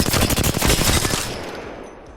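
Rapid automatic gunfire from a video game gun fired from the hip while crouching, a loud dense burst of shots that stops partway through, followed by a fading tail.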